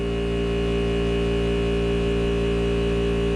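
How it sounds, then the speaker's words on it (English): An air compressor gives off a steady, unbroken electrical hum with a constant drone that never changes for the full few seconds. No voices or other sounds break through it. "Sorry about the compressor noise"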